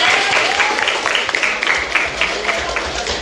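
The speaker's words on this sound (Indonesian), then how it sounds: "Beri tepuk tangan." Classroom applause fills the space, dense and steady clapping from a group of students, fairly close and loud, with faint voices and calls mixed in underneath.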